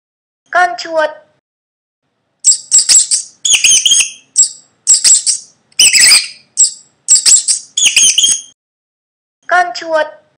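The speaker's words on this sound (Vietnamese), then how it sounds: "Con chuột." A mouse squeaks in a rapid series of high, short chirps in several bursts, fairly loud and close, with a brief spoken word at the start and end.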